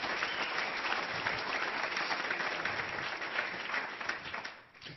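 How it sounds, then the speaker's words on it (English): Lecture audience breaks into sustained applause, a dense, even wash of many hands clapping that holds steady for several seconds before tapering off at the end. "a round of applause for him for the enormous work."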